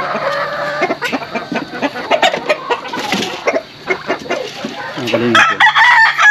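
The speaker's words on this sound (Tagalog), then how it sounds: "Yung mga tandang, kinulong ko yung mga tandang." Caged native roosters cluck and crow loudly up close, several birds calling over one another, with a person speaking briefly in between.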